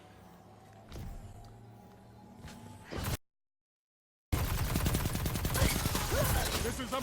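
Rapid gunfire from the Hardlight auto rifle in a Destiny 2 Crucible match, loud and sustained bursts with a short silent gap partway, over game ambience and footsteps.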